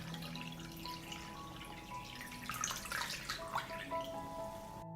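Water poured into a pot around glass jars of summer fruit set on a cloth, a soft continuous trickle and splash that grows fuller toward the end, quiet and close, with a faint background hum.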